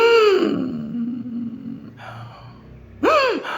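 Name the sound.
imitated agonal breathing, a sign of cardiac arrest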